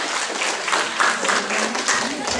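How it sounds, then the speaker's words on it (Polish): Steady audience applause at a children's circus show, a dense wash of clapping from a room full of people, fairly loud and continuous with slight swells, with some voices mixed in. "prosimy o wielkie brawa"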